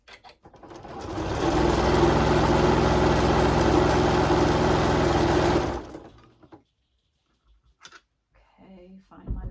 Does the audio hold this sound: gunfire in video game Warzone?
no